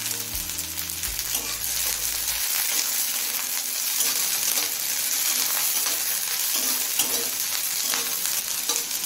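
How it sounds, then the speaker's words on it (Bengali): Steady sizzling of sliced onions and slit green chillies frying in oil in a pan, close and continuous, with a few low tones at the start. "এখন পেঁয়াজটা হালকা লাল হয়ে আসা পর্যন্ত ভেজে নেব।"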